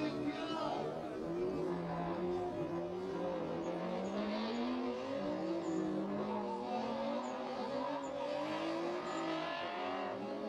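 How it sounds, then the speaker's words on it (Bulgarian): Drift cars accelerate off the start of a race final, with engine whine rising and falling in long revving sweeps, steady and somewhat distant under constant crowd and ambient noise, with speech in the background. "Старт на финала между Павлин и Стефан"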